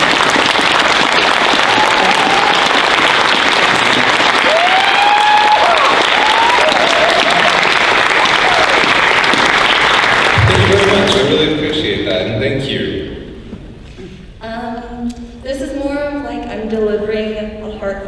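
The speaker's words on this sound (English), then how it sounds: "give these guys a round of applause" Convention crowd applause at a fan Q&A fills the first eleven seconds loudly and evenly with a few cheers, then fades as a person begins talking over the quieting room.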